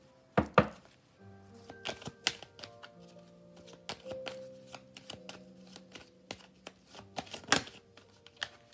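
Playing cards are drawn, slid and laid down on a table in a tarot-style reading; crisp slaps and soft shuffling rustles come irregularly and close, with a steady faint musical tone behind them and no talking.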